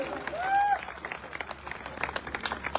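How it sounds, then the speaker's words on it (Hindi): An audience at a wellness product promotion event claps in a faint, uneven patter of applause after a short tonal sound at the start, the clapping thin and distant throughout. "अरे ताली बजा दो, बहुत मेहनत करके बनाया है"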